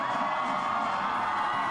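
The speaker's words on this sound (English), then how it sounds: "I want you all to scream real loud for my partner in crime today, Ms. Colleen Marshall." A Pride festival crowd at the Columbus Pride March screams, whoops and cheers loudly and continuously, a dense wall of voices with no pause.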